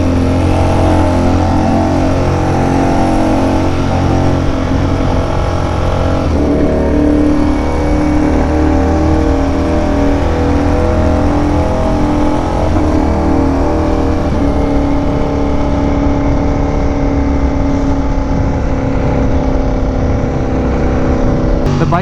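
A Ducati Panigale V4R superbike with full carbon bodywork is ridden slowly on a cold day, its engine droning and shifting steadily throughout against wind rush, with no pauses.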